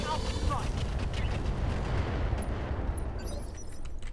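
A battlemech firing all its weapons at once in the BattleTech mod Roguetech, a dense, continuous rumbling barrage of cannon and missile fire that rolls on for several seconds without a break.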